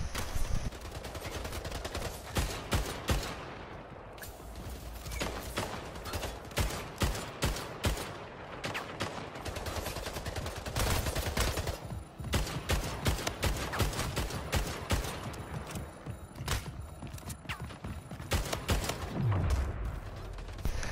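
Gunfire in Splitgate, a multiplayer team deathmatch shooter, with rapid bursts of shots and sustained automatic fire repeating throughout, loud and close against constant game noise.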